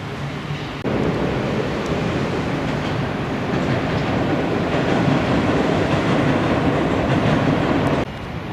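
Paris metro train crossing the viaduct near Gare d'Austerlitz, a loud continuous rumble and rattle of wheels on rails that swells in and holds steady for several seconds before dropping away.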